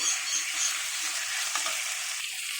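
Boiled potatoes turned with a spatula in a little hot oil give a bright, close sizzle with soft scraping strokes, steady from start to finish.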